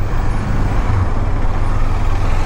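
Heavy road traffic on a hill road with construction under way, lorries and cars crawling close by as a motorbike rides through; a steady, loud low rumble of engines fills the whole stretch with no talk.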